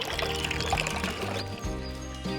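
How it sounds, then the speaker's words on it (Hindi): Water runs and pours in a village in Lauterbrunnen valley, Switzerland, a close splashing trickle with a tonal musical layer mixed over it. "ऐसे पानी चल रहा है"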